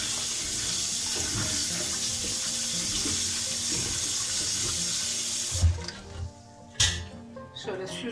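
Green olives are rinsed under a steady, close stream of running tap water for several seconds, then the flow stops and a few brief clunks and splashes of handling follow.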